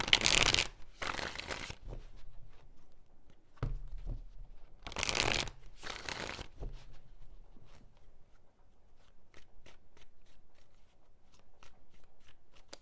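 Tarot cards shuffled in two pairs of quick riffling bursts, crisp and close, followed by faint taps and rustles as the deck settles.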